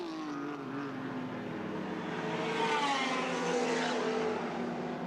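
Touring cars race at Lakeside during the 1984 Australian Touring Car Championship round, with George Fury leading a BMW. A steady, loud engine drone carries rising and falling harmonic whines as the cars pass, with no talk.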